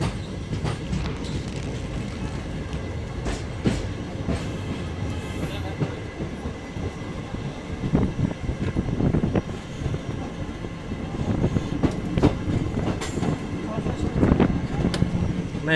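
A train rumbles steadily along the rails near Godavari railway station, Rajahmundry, loud and close, with rhythmic clicks and occasional metallic squeals over the continuous low roar.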